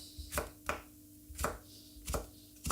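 A kitchen knife chops chillies on a cutting board, about six sharp, evenly spaced knocks standing out clearly against a quiet background with no voices.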